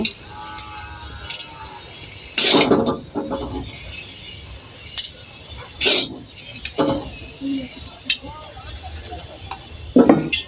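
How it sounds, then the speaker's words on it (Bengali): Fried chicken pieces stirred in hot oil in a pan: intermittent scraping strokes over a faint, low sizzle, with a few sharper scrapes standing out. "তো এখন আমি নেড়ে দিচ্ছি"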